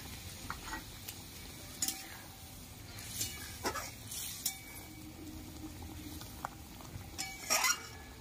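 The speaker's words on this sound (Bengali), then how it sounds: "ভেজে রাখা চিংড়ি মাছগুলো আমি দিয়ে দিচ্ছি" Fried prawns tipped into a pan of simmering prawn malai curry, giving a few soft splats and stirring scrapes over a low sizzle and bubble, fairly quiet with brief clinks of a utensil against the pan.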